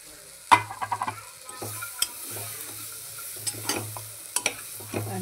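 Spices and peanuts sizzle gently in a pan while a spoon stirs them for a Khandeshi-style khichdi: steady faint frying hiss under sharp scraping and clinking strokes that come in irregular bursts, with no talk.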